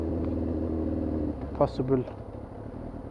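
A Yamaha YZF R6 motorcycle engine runs with an uneven, stuttering rev fault, a rough low drone that breaks into short irregular bursts, with a voice speaking briefly over it.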